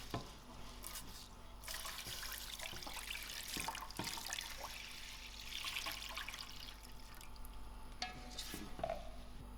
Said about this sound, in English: So slowly I'm going to add in my 1 liter water